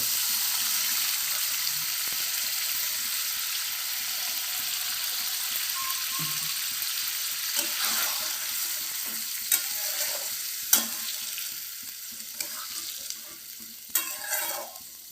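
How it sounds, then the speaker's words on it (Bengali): Spinach paste goes into chicken frying in a pan, producing a steady sizzle with scattered scraping and clinking stir strokes, heard up close. "এখন আমি দিয়ে দেবো পেস্ট করা পালক।"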